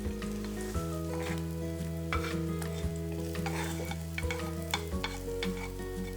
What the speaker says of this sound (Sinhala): දැන් පේනවා ඇති හොඳට අපේ සුදු ලූණු ටික, එතකොට කරපිංචා ටික බැදෙනවා